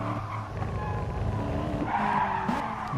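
Gr4 race cars in a racing video game at the Maggiore GP circuit, with steady engine drone and whining tire squeal and skidding layered over it, continuous and fairly loud throughout.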